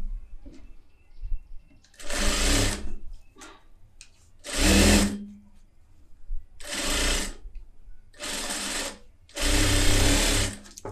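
A tailor's sewing machine runs in five short, loud bursts of stitching, each about a second long, with quiet gaps and faint handling noise between them.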